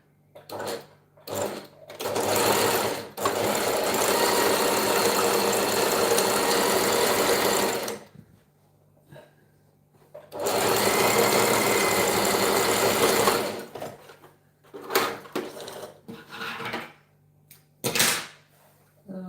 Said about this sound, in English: I'm going to have to zigzag it with the longest stitch